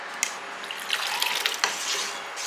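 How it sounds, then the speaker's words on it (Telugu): Water is poured into a cooking pot of lentils in a home kitchen, giving a steady close splashing trickle with a few brief sharper drips and gurgles. "ఎంత వాటర్ పోసాను తెలియటం కోసం అండి"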